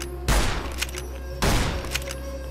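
Two loud gunshots ring out in Fallout: New Vegas, about a second apart, each a sharp booming blast with a short decaying tail and no talk over them.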